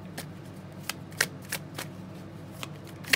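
A deck of tarot cards is shuffled by hand, a quiet run of crisp riffling flicks in an irregular rhythm, close and alone with no talking.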